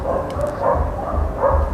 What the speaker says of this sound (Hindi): बाहर की जो कुत्ते का भौंकना हो रहा है,